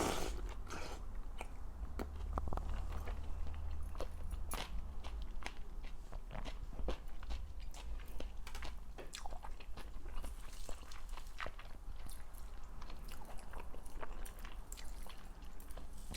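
Cold Korean bibim noodles being eaten close up, with repeated soft bites, chewing and slurping crackles scattered irregularly through a quiet room.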